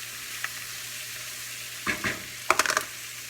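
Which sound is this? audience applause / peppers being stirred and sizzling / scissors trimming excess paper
peppers being stirred and sizzling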